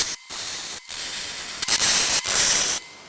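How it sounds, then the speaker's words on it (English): A Hypertherm Powermax 65 plasma cutter slices through a steel wheel rim in several bursts, a harsh loud hissing roar broken by brief silent gaps between cuts. "What I'm using to make these cuts is a Hypertherm Power Max 65"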